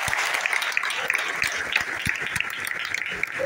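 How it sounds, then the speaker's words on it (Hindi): Crowd applause at a stage-sharing gathering, a dense patter of many hands with a few sharper individual claps standing out, steady and fairly loud for the whole stretch. "दोनों धरती के लिए जोरदार ताली बजाए"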